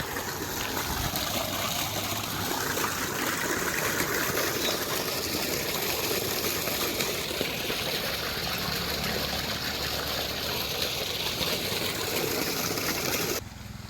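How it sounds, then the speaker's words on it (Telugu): Water gushes hard and steadily from an electric motor pump, a continuous loud rushing that barely changes before cutting off at the end. "మోటార్లో చూసారు ఎంత స్పీడ్గా వస్తున్నాయో నీళ్ళు"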